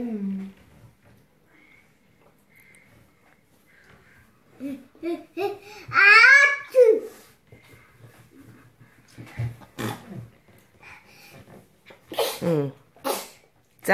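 A sneeze in a busy family home bursts out loudly midway, followed by a few sharper bursts and scattered voice sounds around it.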